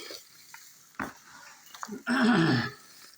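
Bedding being mixed by hand into a worm bin, with soft scattered rustles and taps followed by a louder burst of scraping and shuffling, close and alone without talking.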